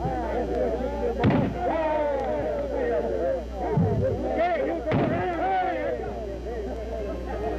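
Guns fire at a turkey shoot during a 1955 family reunion in the Blue Ridge Mountains: three sharp, booming shots spaced a few seconds apart ring out over continuous nearby conversation.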